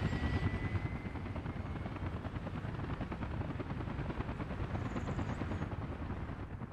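Helicopter carrying steel in the city-building game Workers & Resources, a steady dense rotor drone that stays loud and even throughout with no talk.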